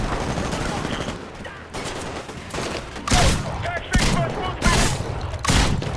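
Heavy shotgun blasts boom in Titanfall, several loud spaced shots landing roughly once a second over background game noise and talk.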